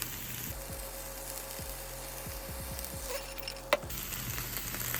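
Green onions stir-fry in a pan among vegan vegetables, a soft, constant sizzle with a run of rhythmic wooden scraping and stirring strokes, plus one sharp knock near the end.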